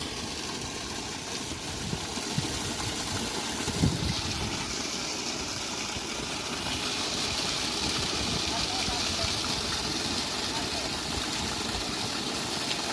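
Out in a field, a fitter-machine irrigation pump engine runs with a steady droning rumble and water noise, continuous and fairly loud, with someone talking over it.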